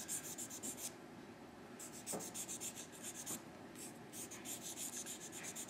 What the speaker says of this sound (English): Micro mesh is just a super fine sandpaper,